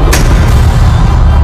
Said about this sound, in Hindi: जब प्रेशर कुकर बम फटता है तो आवाज की गति से भी तेज धमाका होता है।